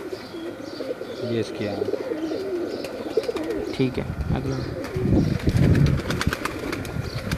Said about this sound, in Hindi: यहाँ पे डेरे पे तमाम कबूतर छोड़े हैं उड़ाने के लिए